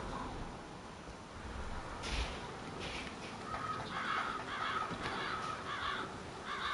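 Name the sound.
birds cawing at a grave in Hitman 3 video game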